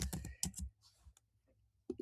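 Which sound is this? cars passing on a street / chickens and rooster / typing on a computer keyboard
typing on a computer keyboard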